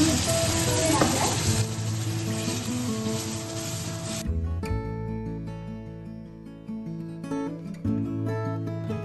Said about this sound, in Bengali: এবার আমি মশলাগুলোকে ভালো করে কষাবো।